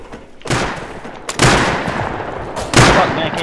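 Enemy gunfire from the online survival game Rust during a base raid: three loud, sharp bursts of shots with ringing tails, coming at roughly one-second gaps, with no talk over them.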